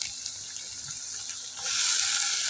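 Whole cumin, onion and tomatoes sizzle in a hot pan, a soft crackle that jumps to a louder, brighter hiss midway as the vegetables hit the oil.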